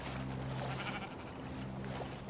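Sheep bleat in the Minecraft: Story Mode video game, a wavering animal cry heard over a constant background hum, close and moderately loud.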